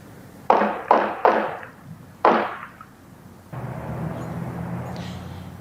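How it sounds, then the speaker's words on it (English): Several sharp reported gunshots from a shooting at a home ring out one after another, four loud cracks in quick succession within a couple of seconds, followed by a steady rumbling background noise. "where you can hear those reported gunshots"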